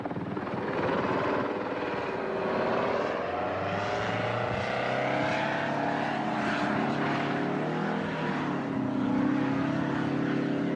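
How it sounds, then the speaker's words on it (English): A V-22 Osprey tiltrotor on a test flight roars with a dense, continuous rotor and engine drone, loud and unbroken throughout, with no voices. "The V-22 Osprey crashed during a test flight back in 1991"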